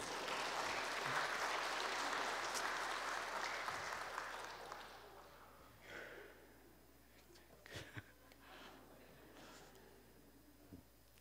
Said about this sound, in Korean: 송대관 집사님 부르면 박수 치던데